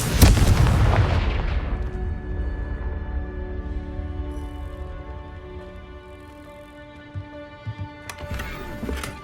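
A loud blast from the Confringo fire spell in Hogwarts Legacy, a booming explosion with a long ringing tail that slowly fades, followed near the end by a few soft thuds and a brief crackle; no speech.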